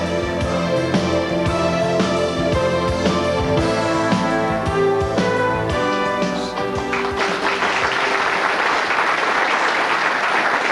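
Music with sustained tones plays, then a crowd breaks into loud, sustained applause that fills the last few seconds.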